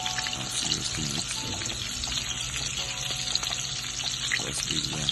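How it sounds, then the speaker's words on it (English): Fish roasting over an open fire with vegetables, giving a dense continuous sizzle and crackle, close and fairly loud throughout, with small pops and spits scattered across it. "And these are my roasted fish. I'm seeing it on fire."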